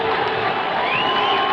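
A large stadium crowd roars loudly and steadily after a goal in a 1980 CECAFA semi-final between Ethiopia and Uganda. The cheering is a dense, sustained din with whistles and shouts, and a commentator talks over it.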